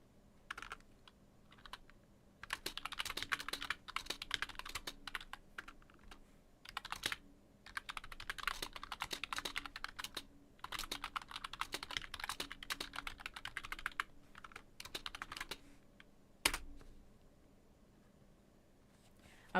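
Rapid clattering keystrokes on a computer keyboard come in long bursts with short pauses, close and moderately loud, then trail off near the end after a single sharp click.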